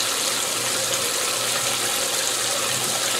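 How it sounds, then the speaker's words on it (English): A GE Infusor GTWN5050M0WS high-efficiency top-load washing machine takes in water for a fabric-softener rinse, a steady, continuous hiss of rushing water with a faint low hum underneath, unchanging throughout. "it's set on the fabric softener setting, so it is going to do a proper rinse"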